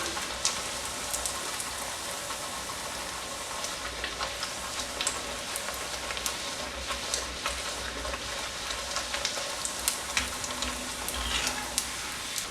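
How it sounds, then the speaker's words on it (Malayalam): Ney pathal, Malabar fried pathiri, bubbles in hot oil with a steady, dense crackling sizzle and scattered sharper pops throughout. "രണ്ട് സൈഡ് ഒരു ലൈറ്റ് ഗോൾഡൻ കളറാകുന്നത് വരെ മറിച്ചും ഒക്കെ ഇട്ടതൊന്ന് ഫ്രൈ ആക്കിയെടുക്കണം"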